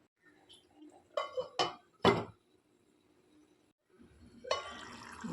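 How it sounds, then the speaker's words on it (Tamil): A pot lid clatters down onto a pot of simmering curry in a home kitchen: a few sharp metallic clinks and knocks close by, followed by quiet bubbling and later a louder burst of cooking noise. "2 நிமிஷம் கொதிக்கட்டும். நம்ம மூடி போட்டு வைப்போம்."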